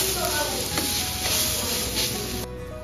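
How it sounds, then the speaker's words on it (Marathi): Chopped onion and garlic sauté in hot oil for a cashew curry, sizzling loudly and continuously up close with faint stirring scrapes, before easing slightly near the end. "कांदा आणि लसूण तांबूस कलर येईपर्यंत तेलात छान परतून घ्यायचा आहे।"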